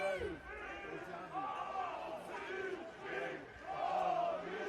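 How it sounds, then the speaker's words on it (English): Sydney Olympic fans chant and cheer in the stands at a National Premier Leagues semi-final football match against Sydney United, a rolling, sung crowd roar that swells and dips in waves, heard from a distance. "So the Olympic fans find their voice again."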